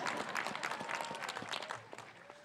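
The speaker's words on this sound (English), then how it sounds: "Yes, that deserves a round of applause." A commencement audience at a college graduation ceremony claps in a burst of scattered, distinct claps that thin out and fade toward the end.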